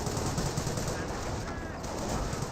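A Bren carrier's machine gun in Company of Heroes rattles off sustained automatic fire, loud and unbroken across the whole stretch amid battlefield noise.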